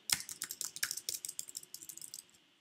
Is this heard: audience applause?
no